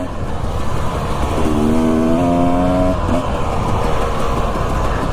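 A dirt bike motorcycle rides a rough, rocky Utah trail, its engine a loud, steady drone with a rising rev in the middle, heard up close over constant wind rush.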